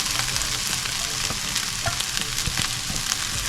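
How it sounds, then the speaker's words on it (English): Corn tossed and stirred in a hot pan for shepherd's pie, giving a dense, loud, continuous sizzle with scattered scraping and rattling of kernels, close by and without any talking. "Go ahead and dump in your corn in there."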